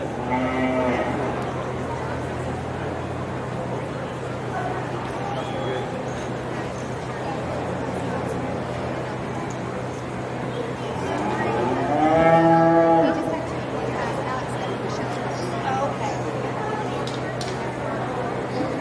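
Angus heifers lowing at a 4-H county cattle show, a loud moo near the middle that rises above a busy show-barn background with a steady hum and an announcer's voice.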